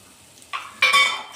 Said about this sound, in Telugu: లవంగులు, దాల్చిన చెక్క, యాలకులు కూడా వేసేస్తున్నాం.